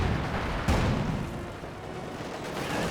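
A Panzer tank taking a hit from a T-34/85 in the Company of Heroes 2 war strategy game: a single sharp impact boom stands out over constant low battle rumble and scattered distant fire.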